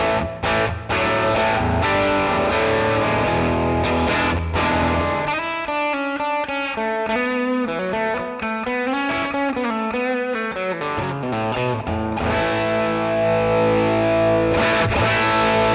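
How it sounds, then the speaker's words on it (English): An electric guitar through a Sonicake Matribox II Pro multi-effects unit plays with heavy distortion, its notes trailing into echoing delay repeats, loud and steady throughout with no talking. "It's my dirty sound, and on this I have the delay mix linked to the expression pedal."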